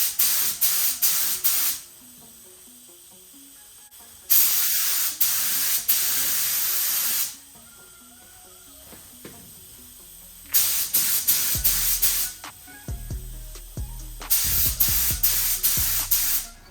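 Spray gun laying a second coat of paint on a Ford Fiesta body panel: four loud, steady hissing bursts of a few seconds each, separated by quiet pauses, heard up close with no talk.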